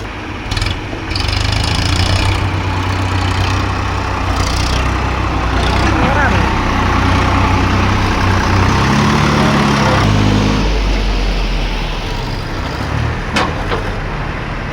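A tractor engine runs loud and close on a steep ghat road, its low rumble steady throughout and thinning slightly toward the end. Voices talk over it now and then.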